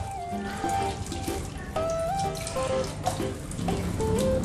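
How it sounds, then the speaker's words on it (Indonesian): Rose apples (jambu air madu deli), dusty from the roadside, being rinsed under a running kitchen tap: a steady stream of water splashing over fruit in a sink, with music playing throughout. "Jadi sekarang kita cuci dulu jambunya karena tadi memang kotor dengan"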